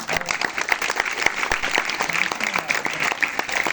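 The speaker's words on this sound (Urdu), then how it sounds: "تالیاں ہونی چاہیے" An audience at a farewell ceremony honoring Muhammad Ibrahim Mujahid Al-Madani claps loudly and steadily, with dense overlapping hand claps filling the room for several seconds.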